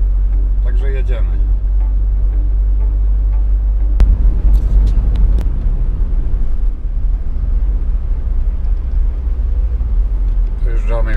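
Car driving on a road in Croatia, heard from inside as a steady loud low engine and road rumble throughout, with a brief louder bump; people talk faintly over it at the start and end.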